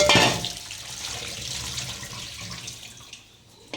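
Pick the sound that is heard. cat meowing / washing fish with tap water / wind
washing fish with tap water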